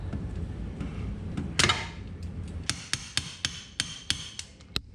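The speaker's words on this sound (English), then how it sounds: "Just a few quick taps of the hammer to loosen up the bearing caps" A hammer strikes the metal bearing caps of a Yamaha Wolverine 700 front differential in a run of sharp, ringing taps, about eight blows at a steady rhythm after an earlier louder knock, close and clear.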